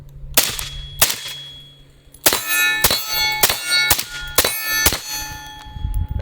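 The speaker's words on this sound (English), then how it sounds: "Let's go ahead and put a suppressor on it" A suppressor goes onto a non-AR 5.56 rifle with a series of sharp metallic clangs and ringing dings, about six distinct hits spaced irregularly, close and clear with brief rattling between.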